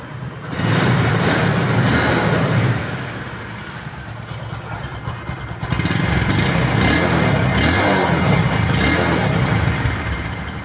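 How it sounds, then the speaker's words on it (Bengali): A used Honda motorcycle engine runs at idle, a loud close rumble that swells, dips briefly, then rises again as the throttle is opened slightly, with no talking over it. "বাইকটির যদি সাউন্ড কোয়ালিটি আপনাদেরকে দেখায়"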